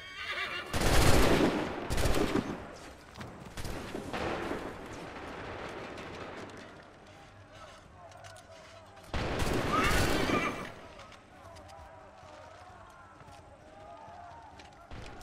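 Musket volleys in Assassin's Creed 3 crack out as loud, broad bursts of massed gunfire, two big clusters separated by quieter rumbling, with horses whinnying and shouted voices in the mix.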